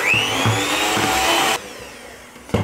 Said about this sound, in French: Là je continue de fouetter.